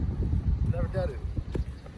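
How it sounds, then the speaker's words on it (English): Strong gusty wind sweeps across a golf course, a low continuous rumble buffeting the microphone, with a brief voice heard partway through. "Wind has really picked up here."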